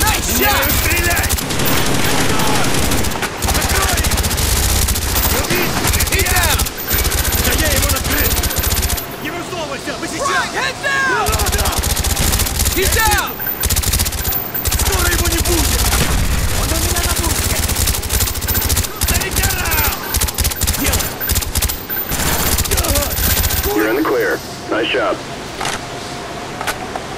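Dense gunfire in the video game Call of Duty Black Ops: loud rapid automatic bursts and single shots layered over a heavy low rumble, nearly continuous, with voices shouting through the action.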